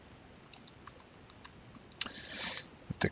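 Keys tapped on a computer keyboard during a programming session, a handful of sparse quiet clicks followed by a short burst of faster typing and a couple of final taps, close and soft with no talk.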